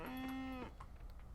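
A cow in the Coral Island farming game gives one clear, sustained moo inside a barn, loud and close, followed by soft ambient sounds.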